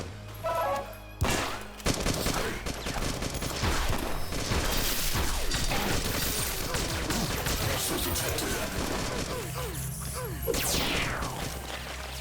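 Rapid, dense gunfire clatters almost continuously through a cyberpunk shooter fight in Beyond Sunset, loud and close, with overlapping shots and impacts and a voice speaking over the chaos.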